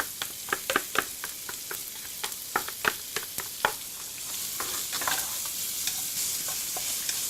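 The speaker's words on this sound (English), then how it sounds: "Fry this until the onion is soft and transparent." Red onion and garlic sizzle and fry in a pan, with sharp scraping stir strokes over a hissing bed of frying, loud and close, no voices.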